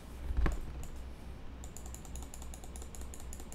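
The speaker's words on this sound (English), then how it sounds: "I don't know how people use keyboards quietly." Fast, continuous typing on a noisy computer keyboard, with dense clacking keystrokes heard close up and one louder thump near the start.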